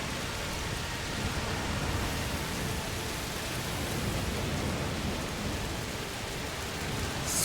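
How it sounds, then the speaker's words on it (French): Rain falls continuously in the video game A Plague Tale: Requiem, a dense, even hiss of steady downpour with no talking. "Satané pluie, c'est parfait."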